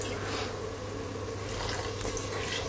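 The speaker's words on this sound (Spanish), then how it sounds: "Y terminamos de cubrir con el agua" Water runs steadily from a tap into a cooking pot to cover a beef stew, giving a soft, continuous pouring rush that stays even throughout.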